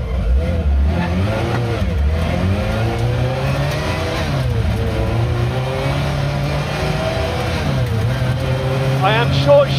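A Lancia Rally 037 restomod engine revving hard as the car pulls away on loose gravel, rising and falling through several gear changes, loud and close, with someone talking over it.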